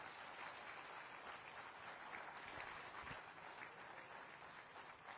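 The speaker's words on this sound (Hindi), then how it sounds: "मेरे भाई और बहनों, तालियों की गड़गड़ाहट लगनी चाहिए।" Audience at a regional industry conclave breaks into sustained applause, a dense even wash of clapping from a large crowd, fairly distant and quiet, with no talk over it.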